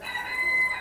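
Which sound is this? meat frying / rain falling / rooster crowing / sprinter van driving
rooster crowing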